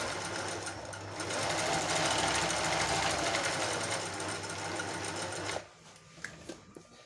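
Singer zig zag 1302/1288 sewing machine stitching a baby pico patch stitch, a steady loud mechanical whirring run for about five and a half seconds that then stops, leaving faint clicks.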